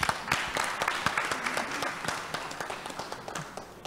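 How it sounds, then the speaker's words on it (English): Guests at a Nigerian Institute of Quantity Surveyors Lagos Chapter annual award event applaud with a small group's uneven claps, the individual hand strikes standing out sharply and close as the clapping slowly tapers. "Round of applause,"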